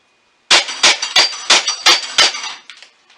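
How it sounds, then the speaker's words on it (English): An airsoft plate rack resets with one pull of a cord, giving a quick series of six sharp metallic clanks in a steady rhythm, close and loud, followed by a fading rattle. "one pull of a cord resets all the plates"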